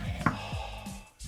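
A knife slices through a lemon with a few soft, close chopping knocks on a board, one sharper thud standing out, quiet and with no talking.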